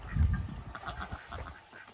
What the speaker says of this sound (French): Je vais essayer de caresser les oies.